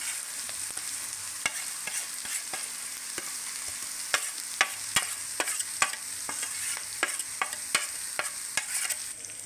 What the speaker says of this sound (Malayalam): നമ്മളത് ഇളക്കി കൊടുക്കുകയാണ്.